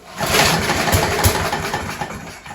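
A Briggs & Stratton four-stroke engine on an alloy-bodied lawn mower catches on a pull start and runs, a close, rough, loud putter with an uneven firing rhythm.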